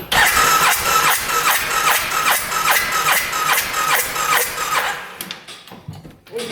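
A $3,000 UTV engine cranks with the throttle open on a weak, dying battery, a rapid rhythmic churning of starter strokes that runs for several seconds, then cuts out without catching.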